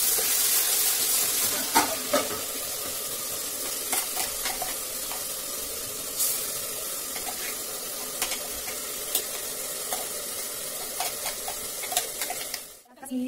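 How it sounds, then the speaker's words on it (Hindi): Masala fries in a pan for bottle gourd kofta, giving a steady close sizzle. Repeated scraping stir strokes punctuate it, and faint talk sits in the background before a brief drop near the end. "अभी इस मसाले को अच्छे से भूनेंगे।"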